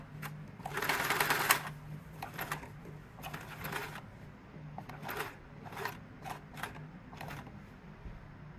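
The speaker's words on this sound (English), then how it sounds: "I'm going to turn off and just sew around a circle" Domestic sewing machine stitching around a drawn circle on mattress fabric for a Sleep Number mattress repair, running in several uneven bursts of whirring with brief pauses between, close and moderately loud.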